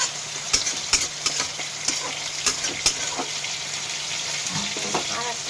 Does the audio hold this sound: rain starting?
no